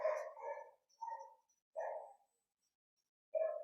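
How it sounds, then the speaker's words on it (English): A dog barks in the background indoors, a handful of short barks in irregular bursts separated by silence, moderately distant and alone. "please ignore my dog barking in the background"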